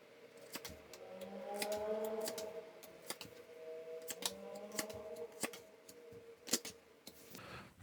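Tarot cards being shuffled and drawn at a quiet indoor table, a series of crisp snapping clicks and soft riffling bursts, close and faint, without voices.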